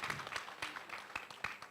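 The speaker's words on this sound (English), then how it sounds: "I think we deserve a round of applause." Brief, quiet applause from an audience at a health-campaign launch event in Nigeria, scattered claps rising and falling over a couple of seconds, faint and somewhat distant.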